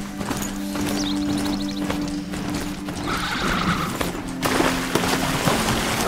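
A ridden horse's hoofbeats in Horizon Zero Dawn, a steady clip-clop of trotting hooves up close, joined by a neigh and some mechanical clanks toward the end.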